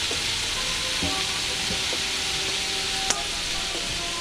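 Tilapia, shrimp and potato pieces fry in hot oil, giving a loud, steady, dense sizzle throughout with a couple of faint metallic clinks.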